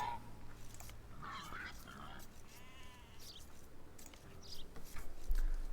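Goats bleat and geese honk at the herding spot in a real-time strategy game, short, faint animal calls among other game effects, with a voice talking over them.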